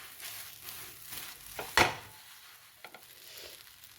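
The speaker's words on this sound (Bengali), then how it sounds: "এরপর এটা দিয়ে আমি এটা ভালো করে আবার মিক্সড করে নেব।" A ground cumin and chilli spice mix is stirred in a pan: soft scraping and shuffling strokes with a faint sizzle, one sharper scrape near the middle, no talking.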